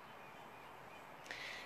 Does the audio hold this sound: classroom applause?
no